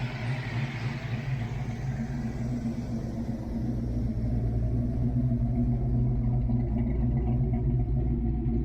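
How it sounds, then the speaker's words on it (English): A stroked Ford Foxbody V8 idles around 850 to 950 RPM with a low, steady, lumpy rumble. It sounds close and fairly loud, grows slightly louder partway through, and no one speaks. "this car likes to idle somewhere around like 850 to about 950 RPM"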